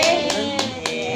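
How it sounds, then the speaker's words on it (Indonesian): Hands clap for Kiano's second birthday: a few sharp, separate claps roughly a third of a second apart, close and fairly loud over a steady tonal background. "Tepuk tangan Kiano."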